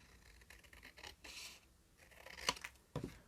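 Folded paper is cut on each side for a handmade card box, giving soft quiet snips and rustles with one sharper crisp cut near the end.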